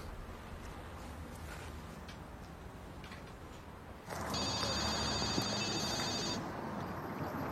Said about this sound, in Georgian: ტელეფონი არ ჩერდება